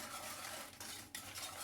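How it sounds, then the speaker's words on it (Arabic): Chocolate cake mixture thickened with cornstarch being stirred in a pot, a steady scraping swirl with faint utensil clinks against the metal, close and continuous. "نحرك هادشي كلشي وغادي نديرو فوق البوطه"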